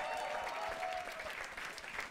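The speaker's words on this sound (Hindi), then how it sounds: "एक बार जोरदार तालियां फॉर हिम भाई" Audience applause at a live stand-up comedy show, a steady wash of clapping hands sustained throughout, moderately loud and close, with faint voices underneath.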